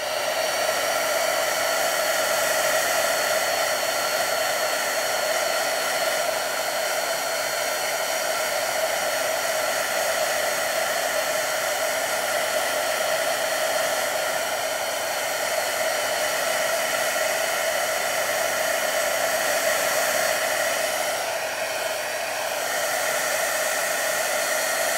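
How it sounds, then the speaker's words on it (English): A heat gun blows steadily for embossing on a stamped butterfly card, a loud, constant whooshing hum that holds unbroken throughout with only slight wavering; no talking. "I'm just going to keep moving my heat gun around so it's not on the same spot for very long."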